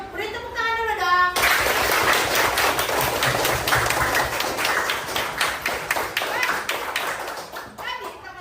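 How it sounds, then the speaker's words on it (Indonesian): Schoolchildren in a primary school classroom clap together in a loud, sustained burst of applause that begins abruptly and runs for several seconds. Children's voices chatter briefly before and after the clapping. "Beri tepuk tangan dulu dong."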